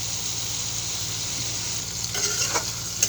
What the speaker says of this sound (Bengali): সুন্দরভাবে আস্তে আস্তে আমি মাংসটাকে ভালোভাবে প্রায় 3 থেকে 4 মিনিট কষিয়ে নেব।